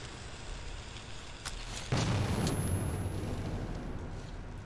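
A grenade blasts in the Metro 2033 video game, a sudden broadband boom about two seconds in that lingers as a rumbling, crackling tail over steady game ambience.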